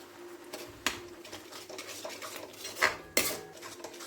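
A spoon clinks and scrapes against a pot while salt is stirred into momo chutney, with irregular close metallic taps and a couple of louder knocks over a quiet background, no talking.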